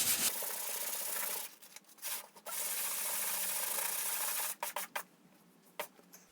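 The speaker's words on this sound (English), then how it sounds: "No doubt somebody will tell me I'm sanding it wrong" Someone hand-sands drywall filler with long, continuous abrasive strokes. Short pauses break the sanding, and it ends in a few quick scrubbing strokes, close and clear, with no talking.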